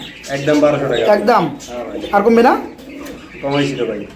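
Pigeons being sold at a market, including a pair with eggs, coo softly beneath steady close-up conversation that runs through the whole stretch.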